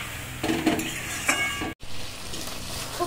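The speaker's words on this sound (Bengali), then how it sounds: "মশলা দিয়ে খুব ভালো করে নেড়ে নেব।" Okra, shrimp and ground spice paste sizzle in a pan while being stirred, with a close scraping utensil and a few light clinks over a steady fry, broken by one brief silent gap.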